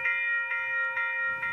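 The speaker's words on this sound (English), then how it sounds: "Oh, there's a train coming." A Roblox train-crossing bell rings in an electronic, evenly spaced chime, about four strikes, clear and close.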